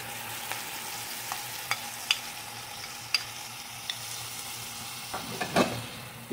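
Corned beef frying in a pan for kaldereta, a steady low sizzle with sporadic sharp clicks of a utensil against the pan and a brief scraping stir near the end.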